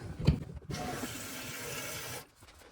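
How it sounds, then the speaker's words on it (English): Toilet tank refilling after the supply water is turned back on following a fill valve fix: a steady rushing hiss of water fills the tank for about two seconds, then drops off quickly. "Turn your water back on."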